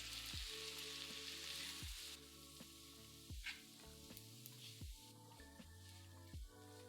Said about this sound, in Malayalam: പിന്നെ ചക്കക്കുരു വേവിച്ചത് വെള്ളമില്ലാതെ ചേർത്ത് 10 മിനിറ്റ് ഫ്രൈ ചെയ്യുക.